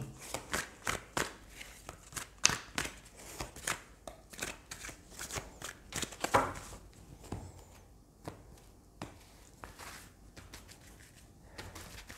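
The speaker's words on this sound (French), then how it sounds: "on va compléter avec les arcanes mineurs du tarot, justement, pour essayer d'affiner un petit peu le tirage" Tarot cards being shuffled nearby, a quiet run of quick flicking riffles and soft taps in an irregular rhythm that thins out toward the end, with no voices.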